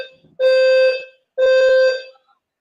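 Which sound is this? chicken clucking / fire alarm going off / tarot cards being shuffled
fire alarm going off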